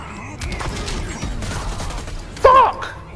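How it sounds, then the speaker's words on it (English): Scattered gunfire in the fighting video game Injustice 2, with a few brief shots and mechanical clanks under a game-fight mix that ends in a sharp louder hit. "This motherfucker's shooting the fuck out of me."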